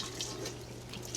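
Cooking water poured off in a kitchen after making cassava fufu with palmnut sauce, a steady close splashing stream running for over a second with no talk over it.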